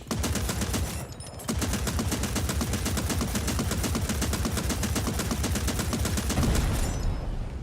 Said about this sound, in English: Now, enter the AA gun and shoot down the enemy chopper.